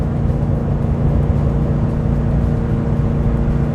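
A Chevy Silverado pickup engine holds a steady drone around 3,500 RPM while towing uphill, a loud, constant low hum with road rumble and no voices.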